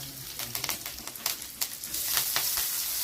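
Onion, garlic and curry leaves fry in hot oil, giving a close, crackling sizzle with sharp pops and spits that grows slightly louder toward the end.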